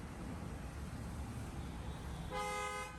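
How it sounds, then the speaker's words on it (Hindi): A brief dual-tone horn on a 2021 Škoda Octavia L&K honks once near the end over a steady wash of background noise. "डुअल टोन हॉर्न है"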